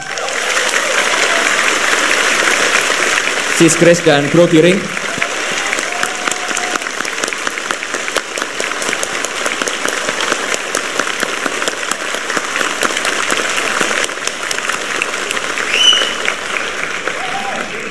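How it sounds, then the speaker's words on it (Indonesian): Audience applause for two party chairpersons at a Partai Solidaritas Indonesia gathering, loud sustained clapping across the room, with a voice briefly speaking over it early on before the clapping carries on alone. "saya pengen minta tepuk tangan yang paling meriah kepada dua ketua umum kita"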